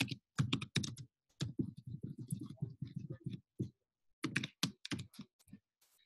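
Fast typing on a computer keyboard, close and fairly quiet, arriving in quick clusters of keystrokes with brief pauses between them.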